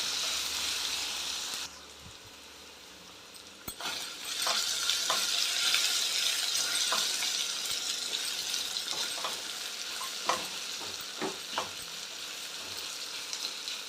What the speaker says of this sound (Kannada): ಇದನ್ನು ಒಂದು 5 ನಿಮಿಷ ಎಣ್ಣೆಲೇ ಸ್ವಲ್ಪ ಬೇಯೋ ಹಂಗೆ ತಿರುಗಿಸ್ಕೊಳ್ತಾ ಇರೋಣ